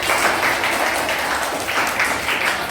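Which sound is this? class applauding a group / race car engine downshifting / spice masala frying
class applauding a group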